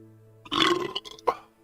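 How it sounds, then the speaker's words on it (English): A loud, close belch from a man rumbles for about half a second, followed by a short second burst, against quiet background hum. "Wow, that was one hell of a belch"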